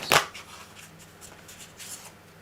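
A quick riffle of tarot cards being shuffled, one sharp papery burst at the start followed by faint handling rustles in a quiet room.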